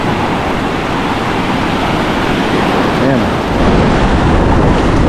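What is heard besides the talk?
sea waves crashing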